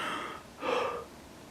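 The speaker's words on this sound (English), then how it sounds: "This is me breathing, by the way." A person breathing close to the camera outdoors, a soft airy inhale followed by a stronger, louder breath lasting about half a second, with no talking.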